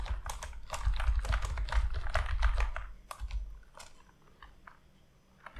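Fingers type Python code on a computer keyboard in a steady, dense flurry of close clicking keystrokes that thins out toward the end, with no talking.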